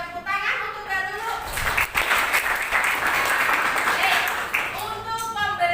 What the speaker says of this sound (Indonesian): Kita berikan tepuk tangan untuk Mbak Lulu.